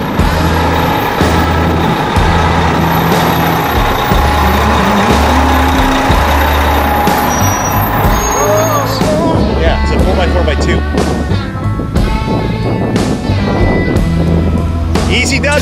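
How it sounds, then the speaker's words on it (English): A fire engine being pulled out of its station gives a loud, continuous low diesel rumble with a hissing burst like an air brake, and the engine noise shifts as the truck moves. "they're gonna pull the fire engine out so that we can compare the size of this thing with the fire engine"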